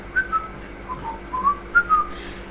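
Someone whistles a short, bright melody alone, a handful of clear notes rising and falling at a relaxed pace.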